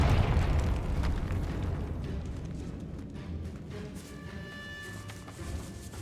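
A fire spell in Hogwarts Legacy erupts into a loud, rumbling blast that starts at full force and slowly decays into a long, rolling tail of debris and echo inside a catacomb.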